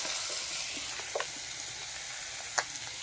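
Meat searing in a dry pan with no oil, a steady soft sizzle with a few faint crackles and one sharper pop near the end.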